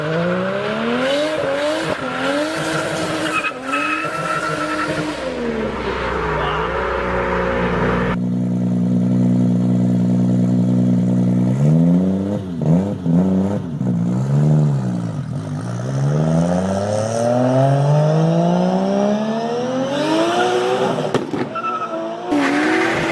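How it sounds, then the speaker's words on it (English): A Nissan Skyline R34 GTR with its RB26 engine revs loudly and continuously, its pitch sweeping up and down through repeated throttle blips, with a steady held drone in the middle stretch and no talking. "here's some clips of that beautiful RB26 engine singing"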